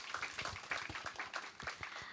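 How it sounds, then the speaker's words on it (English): A small audience at a women's automation and data science awards event gives a faint, distant round of irregular hand clapping lasting a couple of seconds. "I think a round of applause for that insight"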